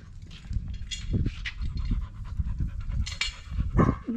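A dog at a fence pants rapidly and close up, quick rhythmic breaths with snuffling bursts and small movement sounds throughout, no talking.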